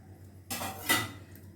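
A spoon stirs Nandan fish curry in a pot, making a short scraping rustle with a light metallic clink, close and fairly quiet.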